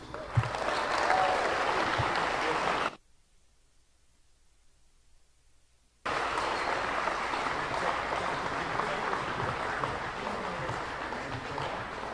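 Loud applause from an audience at a high school sports hall of fame induction ceremony, a sustained wash of clapping that breaks off for a few seconds of near silence, then resumes just as strongly and continues to the end.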